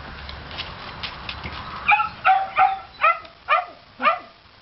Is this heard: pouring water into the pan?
no